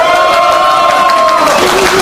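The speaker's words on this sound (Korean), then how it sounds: "자, 우리 리버스 이 선생님을 위해서 우리 다 같이 박수요." A crowd at a Democratic United Party leadership primary event cheers and shouts loudly and steadily in a dense roar, with voices rising over it.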